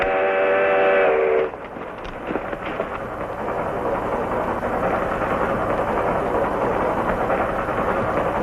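A steam train's whistle sounds loud and sustained for over a second, then cuts off into a steady, rumbling roar of the approaching train and rolling cars, continuous and close.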